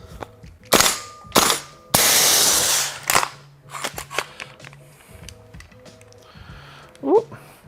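A KWA LM4C gas-operated airsoft rifle firing from a heavily chilled magazine: a few sharp, close shots spaced about a second apart, one with a longer hissing gas burst, followed by softer clicks.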